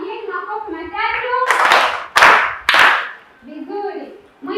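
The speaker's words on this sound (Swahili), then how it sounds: "Mjini makofi matatu." Three sharp, loud claps from a class of primary schoolchildren in a Tanzanian classroom, evenly spaced in a quick rhythm, with a teacher's voice talking before and after.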